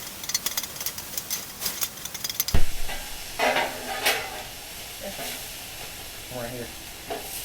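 Carne asada sizzles steadily on a Blackstone griddle over medium heat as it browns, a broad hissing fry with scraping and stirring clicks and one sharp knock partway through, all fairly close.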